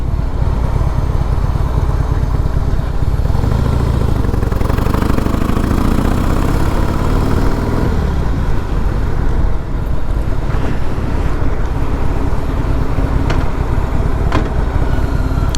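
Harley-Davidson CVO ProStreet Breakout ridden around a lake, a loud, deep V-twin rumble that rises and shifts through gears, heavily buffeted by wind noise on the microphone.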